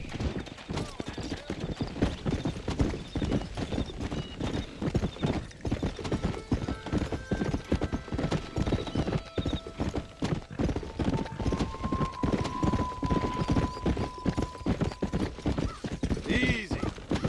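A horse gallops in a video game: a steady, fast clip-clop of hooves runs throughout, loud and close, with a brief whinny near the end and a voice speaking over it.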